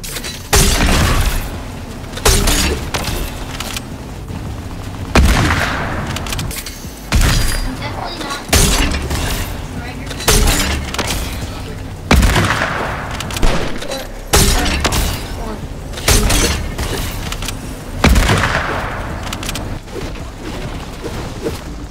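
Repeated bursts of gunfire from the shooter game Fortnite come in loud, regular volleys every couple of seconds throughout, each a sharp broadband crack with a thumping tail, alongside some voices.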